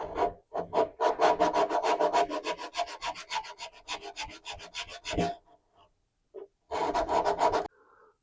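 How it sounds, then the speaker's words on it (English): Glue being chiselled and sanded off the dovetail of an acoustic guitar neck during a neck reset: close, rapid rhythmic wooden scraping strokes for about five seconds, a few faint scrapes, then another short burst of rubbing. "I'm going to just chisel a little bit of that off and maybe sand it a bit"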